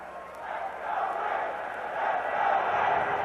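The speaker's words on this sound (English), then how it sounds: "Matter of fact, you hear a lot of cheering." A 1990 hockey championship crowd roaring and cheering in an arena, a broad sustained wash of voices that swells gradually louder toward the end, with no clear single voices standing out.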